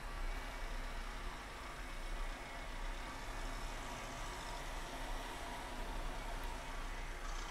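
A classic car's engine idles steadily in the Classic Car Parking HQ mobile game, played on a Galaxy S3, giving a low continuous hum with no talking.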